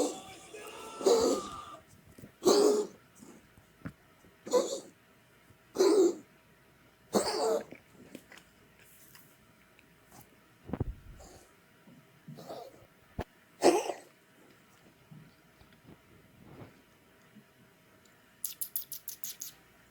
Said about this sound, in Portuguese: acho que tem um vídeo de um gatinho tossindo